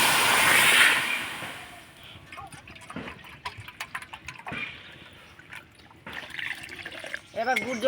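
Two bowls of water are poured onto date palm jaggery in a pot, a loud close gush lasting about a second and a half, followed by quieter clinks and a speaking voice.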